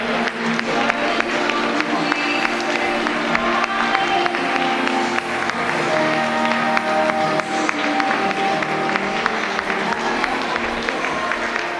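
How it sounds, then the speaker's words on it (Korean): Wedding guests applaud as the couple makes their entrance toward the stage, a continuous crowd clapping with scattered cheers heard close and loud, with music playing underneath. "이제 단상으로 향하는 오늘의 두 주인공에게 뜨거운 박수로 맞이해 주시기 바랍니다"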